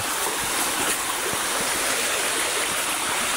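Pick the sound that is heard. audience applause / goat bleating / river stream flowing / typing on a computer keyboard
river stream flowing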